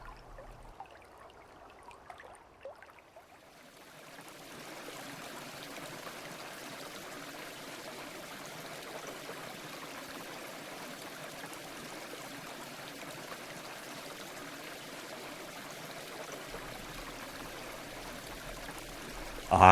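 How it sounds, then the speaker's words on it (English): Water flowing in a stream, starting after a quiet stretch with faint sound, then a steady, continuous rushing and trickling wash that holds evenly to the end without voices. "Listen for water right after this musical pause."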